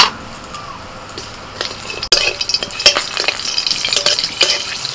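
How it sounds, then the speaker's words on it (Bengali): Nigella seeds and green chili hiss and sizzle in hot mustard oil in a wok, the frying growing louder and crackling after a sharp clatter midway, with occasional stirring scrapes. "কড়াইতে একটু সরষের তেল দিয়ে দিয়েছি, আর ওর মধ্যে দিচ্ছি একটু কালো জিরে"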